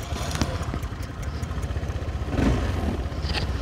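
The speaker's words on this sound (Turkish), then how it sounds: "Şimdi RKS'yi çalıştırıyorum arkadaşlar." An RKS Freccia motorcycle started and running, a close, rapidly pulsing mid-pitched engine idle with mechanical clatter and a slight swell in revs partway through.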